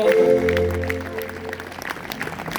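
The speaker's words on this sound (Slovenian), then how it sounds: "Dajte en aplavz" An audience at a Slovenian folk music concert by a student octet in Velenje breaks into clapping, a dense patter of applause rising as a held sung chord fades out.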